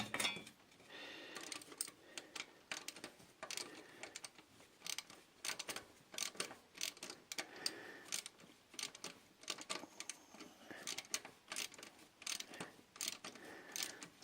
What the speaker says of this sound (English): right now I'm tightening the belt, and so I'm using that tightener